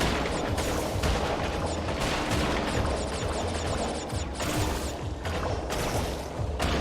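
Enemy missiles launching and exploding in Crash Bandicoot Warped, a dense barrage of sharp blasts and rumbling booms landing in rapid succession, loud and continuous throughout.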